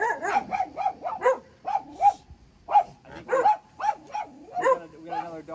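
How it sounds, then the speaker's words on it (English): A dog passing on the Appalachian Trail barks repeatedly at close range, a fast run of sharp yips and barks in uneven bursts with brief pauses between them. "We got another dog walking by"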